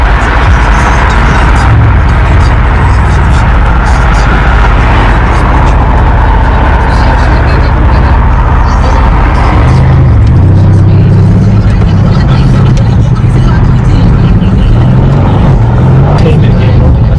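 A Mercedes C63 AMG engine drones loud and close under the cabin, rising in a throaty surge partway through as the car accelerates, with people talking over it.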